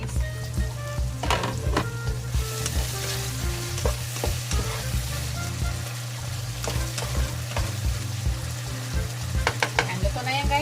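Pork chicharon fries in a covered pan, a loud continuous crackling sizzle with frequent sharp pops and spatters close by, no talking.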